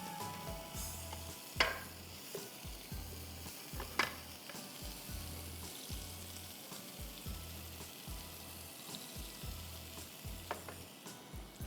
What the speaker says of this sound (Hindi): अब इसको हम अच्छी तरह से फ्राई कर रहे हैं